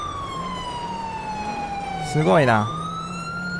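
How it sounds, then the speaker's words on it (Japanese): Police car sirens wail in the GTA 5 video game during a chase, a steady siren tone with a brief louder warbling burst, while a person talks briefly over it. "おー、パトカー2台来てる。"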